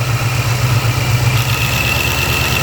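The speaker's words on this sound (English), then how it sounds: "Oh, these injectors are loud." A supercharged 2019 Coyote Mustang engine idles up close with a steady low rumble, overlaid by a dense, fast ticking from the direct injection system that stays constant throughout.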